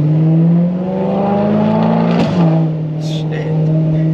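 A straight-piped BMW M3 exhaust drones low and steady at idle-level revs, a deep rumbling hum with a brief throttle blip midway.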